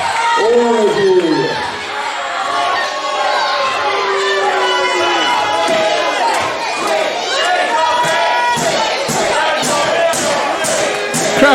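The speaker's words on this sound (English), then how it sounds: "Crowd chanting twig at Stixx" A wrestling crowd at a caged-warfare event chants and shouts in a loud, dense roar, with rhythmic bursts of voices and someone speaking over the noise.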